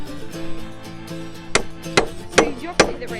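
Four loud, sharp hammer blows on wood land at a steady pace, each a hard crack with a short ring, while a big hammer drives into a lean-to shed frame in a DIY build.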